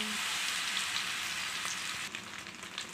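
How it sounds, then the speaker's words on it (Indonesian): Battered anchovies frying in hot oil in a wok, a steady, loud, dense sizzle and crackle running unbroken throughout with no talk. "kita masukkan ke wajan yang udah panas minyaknya ya kita goreng"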